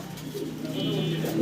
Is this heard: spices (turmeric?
no